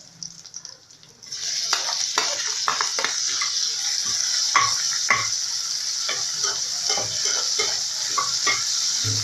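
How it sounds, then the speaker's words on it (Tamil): Onions added to a pan of frying chicken with coriander set off a bright, sustained sizzle, punctuated by frequent clinks and scrapes of a spatula stirring against the pot, close by. "இப்போ நம்ம வெங்காயம் ஆட் பண்ணிக்கலாம்."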